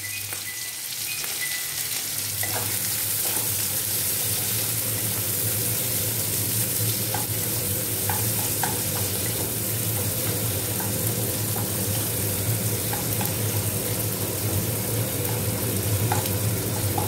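Onion sizzles steadily in a hot pan of oil while a spatula stirs it, producing a continuous close frying hiss with faint scraping, and no voices.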